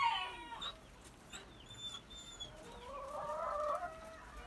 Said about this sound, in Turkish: Tavuklarını gösteriyorum.